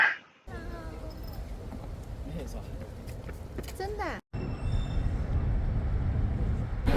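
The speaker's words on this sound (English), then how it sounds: "So let's try Chinese subway for the first time." A Guangzhou subway train rumbles steadily through the tunnel, its broadband roar interrupted by a brief drop near the end, with faint talk in the carriage.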